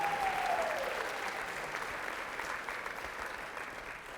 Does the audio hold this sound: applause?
yes